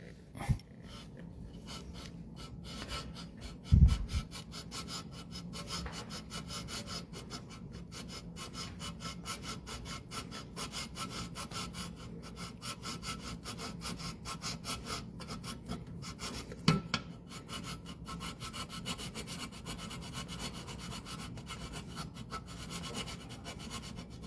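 Silver flatware being scraped in a thin pass to test whether it is real silver, a continuous faint rasping scratch with a couple of sharper knocks.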